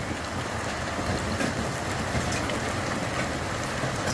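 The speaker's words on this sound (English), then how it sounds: "There is hail like I've never seen before here at Esk." Huge golf-ball-sized hailstones batter the ground and objects in Esk, Australia, producing a steady, heavy clattering roar up close, unbroken and without speech.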